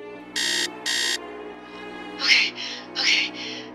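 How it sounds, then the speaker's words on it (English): An alarm sounds indoors: two loud, evenly spaced synthetic beeps, then a quieter run of four warbling electronic chirps over a faint steady hum, with no voices. "Why is my alarm going off?"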